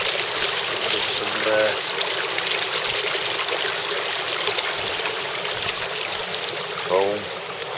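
Water runs steadily through a homemade gravity dredge sluice packed with riffles, a constant broadband rush and trickle that holds at the same loudness throughout, with faint voices in the background.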